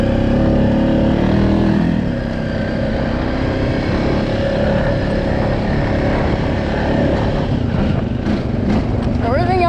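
A four-wheeler ATV engine drones loudly and steadily as it ploughs through thick mud, close and continuous, with splashing and churning growing toward the end.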